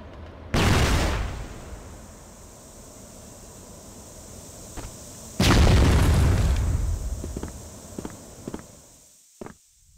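Two heavy booming bomb blasts in a video game, each a loud burst fading into a long rumbling tail, followed by scattered footsteps and small pops.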